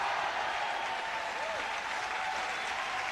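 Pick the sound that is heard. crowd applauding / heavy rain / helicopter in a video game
crowd applauding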